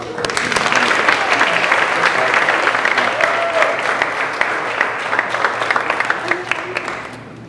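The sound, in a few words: audience applause for Mary Beth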